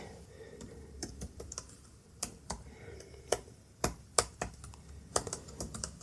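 Computer keyboard typing out C code, a run of irregular light key clicks with short pauses and a few sharper taps, close and fairly quiet, with no voices.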